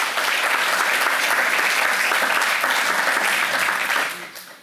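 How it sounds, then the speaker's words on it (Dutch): An audience at an arts academy event applauds a Prix de Rome winner as he comes up to speak. The clapping is full and sustained and crowd-wide, then tapers off in the final moment. "Applaus voor Jonas."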